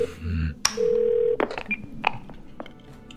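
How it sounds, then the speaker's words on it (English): Touch-tone keypad beeps from an emergency call being dialed in the video game 12 Minutes, a steady tone followed by several short separate beeps, close and clear with no talking over them. "Dial emergency number."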